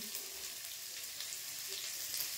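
Onions frying in a pan, a steady, soft hiss and sizzle running continuously without a break and without speech.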